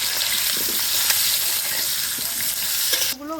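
Spices fry in a hot pan with a dense, continuous sizzle and stirring noise. The frying drops away near the end, where a brief voice begins.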